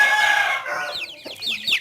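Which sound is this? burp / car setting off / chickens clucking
chickens clucking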